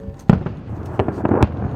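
Sharp blasts of rockets and artillery shells striking military sites in northern Israel, several separate booms at irregular intervals over a rumbling background, no voices.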